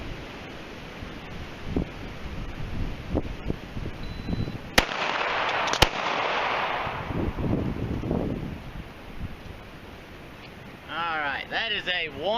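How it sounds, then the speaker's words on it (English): A pistol fired in a tactical speed reload drill: two sharp close shots about a second apart, with a broad hiss and rustle between them and a voice talking at the start and end. "I'm going to draw, fire one shot, do a speed reload, fire one more"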